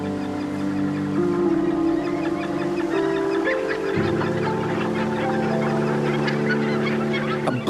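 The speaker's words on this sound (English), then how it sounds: "gannets fly all the way here from Africa to breed" A crowded gannet colony on a Scottish cliff headland calls loudly, with harsh overlapping honking and cackling from many birds in a dense, continuous chorus.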